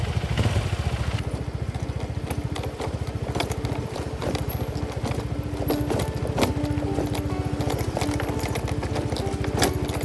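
A motorbike engine putters steadily at low speed on a road in Jagna, Bohol, a continuous close rumble with rattling and clatter over the road throughout.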